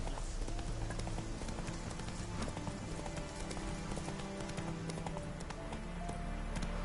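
Horse hooves galloping in The Witcher 3, a dense, steady clatter of clip-clop beats over continuous rain-like background noise without pause.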